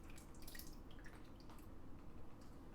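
Whey from farmer's cheese straining through cheesecloth, a faint continuous trickle of liquid with soft drips over a low, steady background hum.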